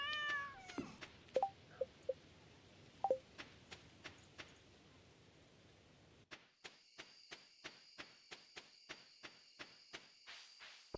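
A pet cat in a farming video game meows a few times in short bright calls, followed by a steady run of evenly spaced chirping clicks like insects.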